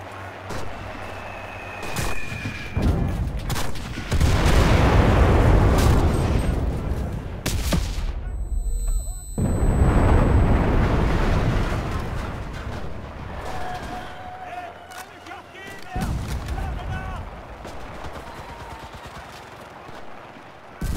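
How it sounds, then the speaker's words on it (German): Artillery fire in the video game Enlisted, set in the Battle of Moscow: heavy booming explosions and rumbling blasts roll in waves over about twenty seconds, loud and close, with sharp cracks, debris and intermittent gunfire between them. "Artillerie!"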